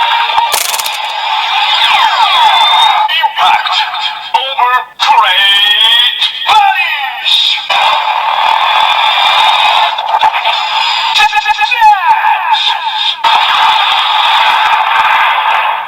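Zeztz Exdream Driver buckle toy with the Exdream Rise Capsem playing its finishing attack effect, a loud, busy stretch of electronic sweeps, chirps and blasts that runs without pause for about sixteen seconds.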